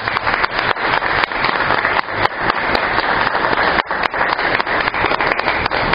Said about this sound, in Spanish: démosles un fuerte aplauso de bienvenida